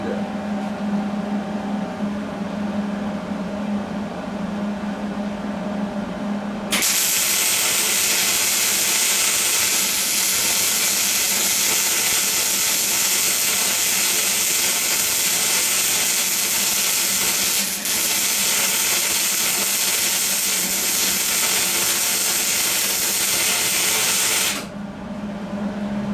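Welding steel feet onto a bench grinder stand: a loud, steady crackling arc runs for about eighteen seconds with one short break partway through, after a quieter stretch with a low hum.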